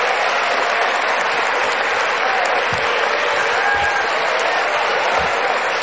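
Applause fills a legislative chamber in a dense, steady wash of many hands clapping together, loud and sustained from start to finish with no break.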